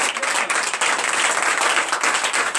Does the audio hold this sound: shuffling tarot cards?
no